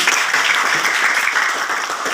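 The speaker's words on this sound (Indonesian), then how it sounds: "Oke, tepuk tangan." A classroom of pupils bursts into dense, steady applause that holds loud and even, with no talking.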